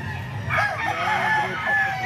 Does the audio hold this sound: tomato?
no